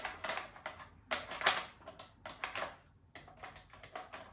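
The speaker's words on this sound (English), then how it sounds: "To remove the tapes, super simple." Tape cassette being pulled out of a Brother P-Touch label maker, a quick string of close, light plastic clicks and rattles, with no talk.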